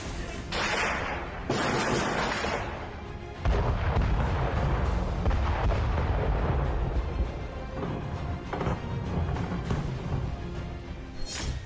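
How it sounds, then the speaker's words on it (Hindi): Artillery and tank cannon fire in a war zone, a run of heavy booms and bursts with deep rumbling between them, loud and close, continuing across the whole stretch. "तोपों और टैंकों से बरसते बारूदी धमाकों से पूरा इलाका थर्रा रहा है।"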